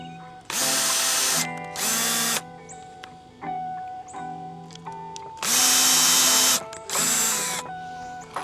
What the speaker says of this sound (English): So I'm just pre-drilling before I hit it with some deck screws.